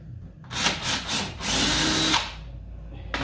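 A power drill bores a hole to mount a lower door on a 2021 Polaris RZR, with short bursts followed by a longer sustained whir, loud and close, then a brief tap at the end.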